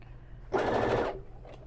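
A sewing machine runs a short burst of stitching on a one-piece, unlined tote bag, close and clear for about half a second against a quiet room hum, with a faint second whir just after.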